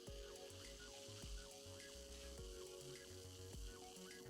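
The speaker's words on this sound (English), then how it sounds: "This beer's got a really loud fizz." Great Lakes Brewing Bride of Shucky Oyster Stout, a 5% beer, fizzes with a quiet, steady crackle of bursting bubbles and scattered tiny pops.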